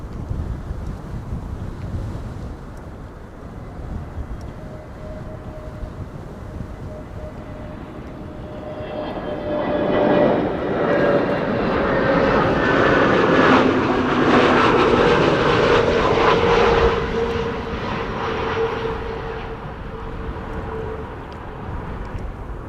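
A Boeing 747 jet airliner approaching Amsterdam Schiphol Airport in windy weather, its engine roar swelling steadily over gusty wind noise, peaking loud overhead, then slowly fading, with no voices.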